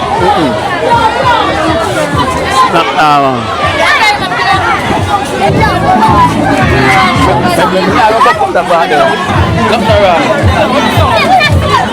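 A dense crowd at a back-to-school giveaway event chatters loudly and continuously, overlapping voices and shouts forming a constant close babble with no pauses.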